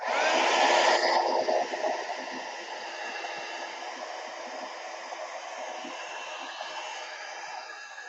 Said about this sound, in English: I'm gonna heat this or dry this a little bit more. So heat gun.